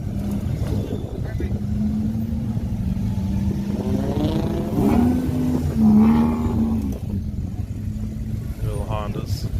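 Small Honda cars at a desert car meet rev their engines, with rising and falling engine tones that swell twice in the middle, heard under nearly constant talking.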